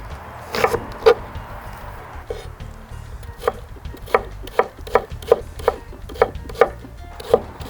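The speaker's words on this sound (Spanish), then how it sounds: "La cebolla la cortamos" A knife chops half a red onion into small pieces for ceviche, with two sharp strikes, a pause, then a steady run of about ten crisp, close cuts on a board.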